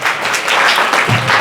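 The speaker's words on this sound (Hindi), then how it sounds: "इनके लिए ताली बजा दो पहले तो" A classroom of children breaks into steady, dense clapping that fills the whole moment, with a low thump entering near the end.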